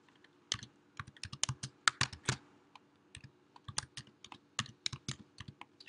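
Quick bursts of keystrokes on a computer keyboard as an email address is entered on a login page, crisp close clicks arriving in irregular clusters with short pauses, no voices.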